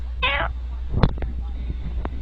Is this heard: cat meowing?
yes